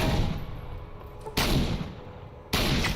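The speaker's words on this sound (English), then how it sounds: "Submachine guns will fuck you up." Submachine gun fire in the Fallout New Vegas video game comes as dense, rattling bursts of shots, with three sharp onsets a little over a second apart, loud and close.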